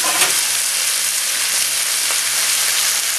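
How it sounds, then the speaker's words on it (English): An egg frying on a hot griddle beside toasting bread, ham and beef, with a steady, loud, close sizzle and fine crackle throughout and no voices. "we're going to fry an egg to put on top there"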